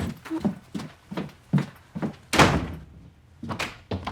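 A door closes in a TV drama home setting, a dull thunk among a series of soft knocks and footfall-like bumps, moderately near, with no talk over it.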